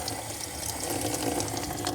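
Water runs steadily from a campsite sink tap in Ireland, a continuous close hiss and splash that stays even and alone for the full two seconds.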